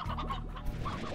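Hens cluck in the Slime Rancher video game, several short, close calls overlapping in a busy, continuous run over a low ambient hum.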